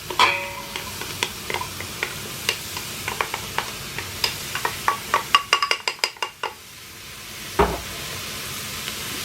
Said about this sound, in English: now I got my pan warmed up. Go ahead and throw in my onion. And my turnips.